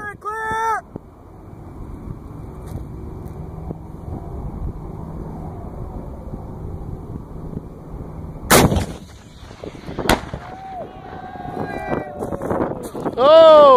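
An AT-4 (M136) anti-tank rocket launcher fires with a sudden, very loud blast and sharp crack near the middle, after steady wind and vehicle rumble, followed by shouting voices and commotion.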